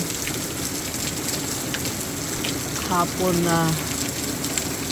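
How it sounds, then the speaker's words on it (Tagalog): Steady heavy rain hisses throughout in Sweden, with a brief spoken remark rising over the downpour near the end. "Grabe ang ulan dito guys."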